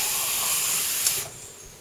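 Water streams into a glass holding lionfish spines with a bright, hissing splash that runs steadily, then cuts off abruptly, leaving a quiet tail.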